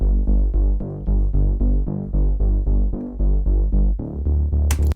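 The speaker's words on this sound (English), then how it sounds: "I set it to the like eighth note duration" Synth bass with its volume ducked by an LFO tool in steady eighth-note pulses, a deep throbbing line that swells and dips in even rhythm, loud and alone, with a brighter burst right at the end.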